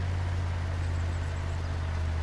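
A lawnmower engine in the Farming Simulator 25 video game drones in a steady low hum, continuous and even throughout, with no talk over it.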